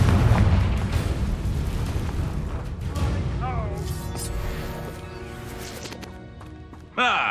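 Confringo blasting spell exploding in the Hogwarts Legacy video game: a loud, dense burst opens the moment and rumbles off under character voices, then a second sharp blast hits near the end.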